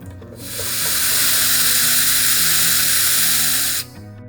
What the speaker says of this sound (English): we drilled and tapped a small keeper hole and inserted a set screw